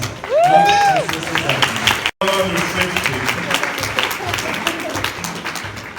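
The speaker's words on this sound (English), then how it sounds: "Round of applause." A crowd claps and cheers loudly after a rising whoop, the applause continuing in a dense, sustained patter.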